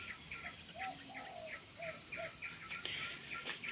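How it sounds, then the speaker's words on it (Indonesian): Faint birds sing and chirp at a distance, short whistled notes repeating over a constant buzz of insects. "karena masih banyak dengar suara-suara burung di sini tuh"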